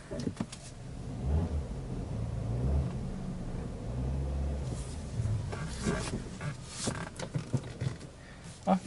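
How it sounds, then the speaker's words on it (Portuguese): A Peugeot car being maneuvered in third gear, with a steady low engine rumble throughout and a few brief sharper knocks and clatters toward the end. "Eu manobrando em terceira marcha"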